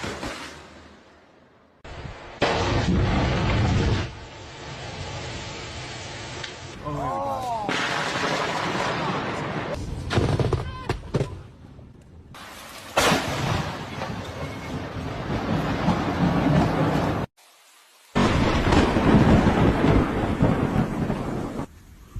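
Thunder from a nearby thunderstorm in loud, long booming rumbles and sharp cracks with heavy rain noise between them. Gaps of near silence separate the bursts, and one crack sounds close.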